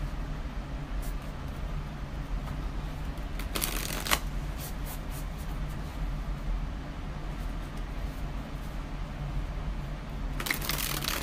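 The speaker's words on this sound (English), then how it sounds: "I'm just going to shuffle the other decks." Brief bursts of cards being shuffled, crisp riffling rattles at intervals against a constant background hiss.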